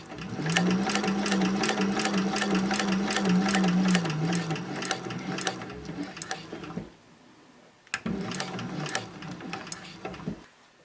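A household sewing machine stitching fabric for a three-compartment caddy, its needle hammering in a fast steady rhythm with a low motor hum, stopping briefly before a second short run of stitching.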